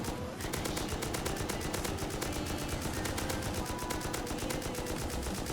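Rapid, continuous automatic rifle fire from the video game Rust, a dense unbroken stream of evenly spaced shots that stays loud throughout.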